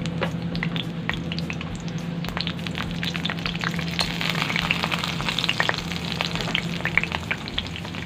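Dried salted fish (tuyo) fries in cooking oil that is not yet fully hot, giving a steady close sizzle peppered with sharp pops and crackles and a low hum underneath.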